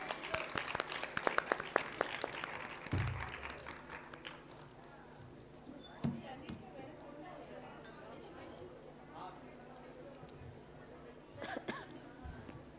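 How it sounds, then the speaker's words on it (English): Clapping breaks out in the KL University auditorium during a youth festival as a guest speaker is welcomed. It is brisk and fairly loud for a few seconds, then fades to scattered claps, shuffling and murmured chatter. "Please welcome her with a huge round of applause"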